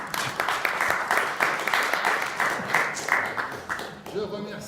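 Audience at an association general assembly applauding the regular flag bearers, a steady wash of clapping throughout with a few louder peaks, fading near the end.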